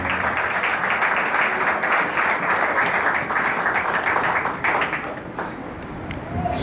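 A church congregation claps together through a crossover night service, a dense, loud, steady wash of applause that dips slightly toward the end, with faint voices mixed beneath.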